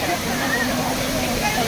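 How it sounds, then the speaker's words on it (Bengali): Kiryu waterfall in Japan pours steadily, a broad, even rushing roar of falling water that stays constant throughout with no pauses. "ঝর্ণা এবং ঝর্ণার পানির যে একটা ভালো লাগা, সেটা সাথে যে শব্দটা যোগ হয়"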